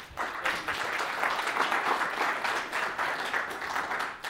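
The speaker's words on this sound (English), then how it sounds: "So quick round of applause for Biyan for me." A conference audience applauds a speaker at a cryptocurrency event, steady dense clapping from many hands that fills the room for several seconds without a break.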